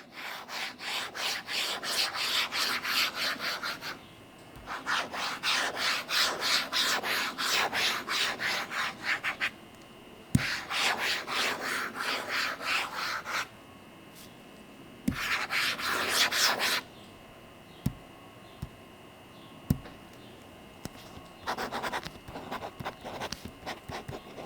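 A Lamy pen fitted with a pointier nib scratching across an e-ink tablet in bursts of rapid, rhythmic strokes, with pauses and a few sharp taps between them, close and clear.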